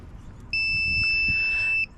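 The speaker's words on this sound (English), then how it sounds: "If you touch those 2 together, it's going to beep" A digital multimeter set to ohms gives a steady, shrill electronic continuity beep lasting just over a second as its probes touch, over faint background noise.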